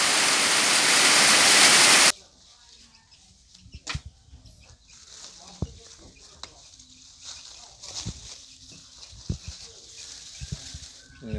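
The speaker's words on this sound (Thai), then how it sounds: "ฝนตกเลยวันนี้" Rain roars loudly at a cricket farm for about two seconds, then stops abruptly, leaving a quiet stretch with someone talking and scattered small knocks and faint background sounds.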